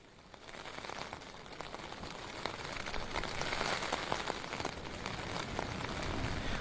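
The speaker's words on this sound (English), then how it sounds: "as you can hear, it is raining once again" Rain falling on a campsite, a dense steady patter of drops that grows slightly heavier over the first few seconds, close and continuous with no voices.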